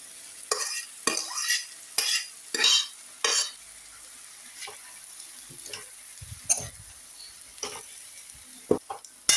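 Boiled samba rice being stir-fried into a vegetable mixture for fried rice, with repeated loud scraping strokes of a spatula against the pan at an uneven rhythm over a steady sizzle, up close and without speech.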